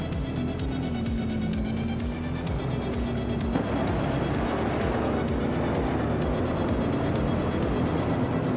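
Engine of a 1970 Chevrolet Camaro Z28 racing alongside other classic 1970s supercars in a racing game, a steady loud droning roar with a shift in pitch partway, close and continuous.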